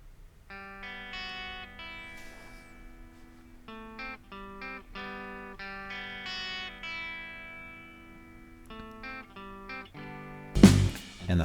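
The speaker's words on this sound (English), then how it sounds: "here's what the first guitar sounds like" A clean, effected electric guitar plays the sparse melodic first guitar line of a song with shimmering chorus and echo, moderately quiet, ending with a brief burst of noise.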